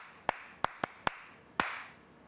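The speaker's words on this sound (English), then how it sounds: "I'm clapping for Stonebwoy." Five sharp hand claps land at an uneven pace, close and crisp, with quiet background between them and no one speaking.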